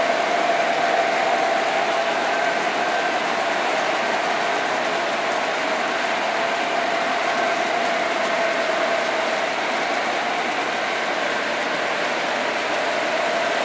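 Model trains run steadily around a Christmas layout with three trains and a central yard, giving a continuous, even whir of small motors with a faint tonal hum, no talk over it.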